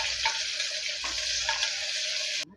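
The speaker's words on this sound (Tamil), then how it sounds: "இப்போ இதை நம்ம வதக்கி எடுத்துக்கலாம்." Chopped onion and green chili sauté in a hot pan with a close, steady hiss and crackle, a few soft scraping stirs passing through it before it cuts off abruptly.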